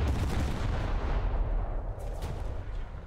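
Heavy naval guns of the cruiser USS Newport News fire in War Thunder: loud, dense, continuous booming that fades a little toward the end, with no talk over it.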